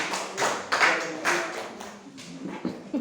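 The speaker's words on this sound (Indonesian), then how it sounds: "Jadi kita tepuk tangan buat Pak Efraim" At an annual meeting of a school foundation in Kupang, a small group claps in a few scattered, uneven bursts with quiet gaps between them.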